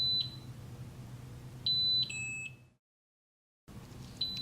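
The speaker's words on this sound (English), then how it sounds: "Make sure the test piece passes over the center point of the sensing area and that it triggers an alarm" Several sharp electronic beeps from a walk-through metal detector alarm sound in short bursts over a low background hum, broken by a brief silent gap before another beep.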